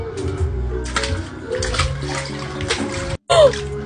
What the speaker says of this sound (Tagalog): Ang sarap naman dito maligo sa swimming pool ni Angel.